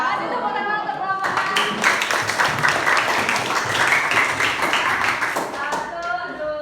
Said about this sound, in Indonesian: Kasih tepuk tangan untuk Rama